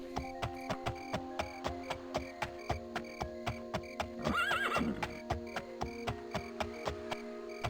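A horse ridden in The Elder Scrolls: Daggerfall video game, with steady, evenly spaced clip-clop hoofbeats throughout and a loud whinny partway through.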